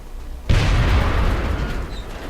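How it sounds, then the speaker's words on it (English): In the XCOM video game a grenade explodes with a sudden loud boom, followed by a broad rumbling blast that decays slowly over about two seconds. "Throwing grenade"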